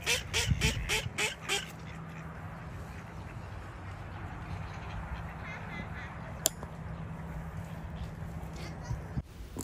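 Ducks quack at a small park pond in Groynes Park, New Zealand, in a quick burst of loud calls at the start, then a steady outdoor background with a faint low hum and an occasional sharp click.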